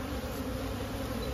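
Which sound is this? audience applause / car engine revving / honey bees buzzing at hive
honey bees buzzing at hive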